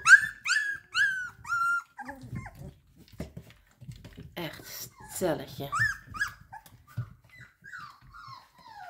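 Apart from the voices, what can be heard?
three-week-old puppies whimpering and growling while eating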